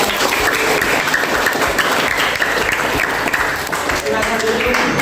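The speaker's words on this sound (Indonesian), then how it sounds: "Ya, tepuk tangan dulu." A high school class of students applauds together after a group presentation on a simple pendulum experiment, with steady, dense clapping that continues throughout.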